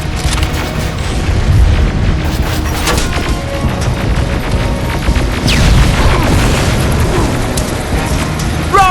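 Rocket explosions boom loudly and almost without pause in Terminator: Resistance, blasts and crashes piling over each other in a dense, roaring barrage.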